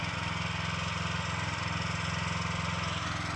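A small motor cultivator ploughs a garden plot, its engine chugging steadily in an even, rapid mid-pitched beat, close by with no talk, holding constant throughout.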